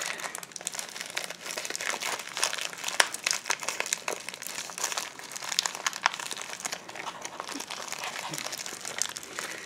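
Plastic packaging crinkling and crackling close up while a makeup palette is unwrapped, a busy run of irregular rustles and crunches lasting several seconds.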